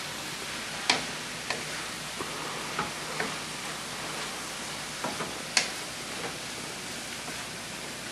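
Scattered light clicks and taps of a utensil stirring a reducing sauce in a pan, irregular knocks over a soft steady sizzle.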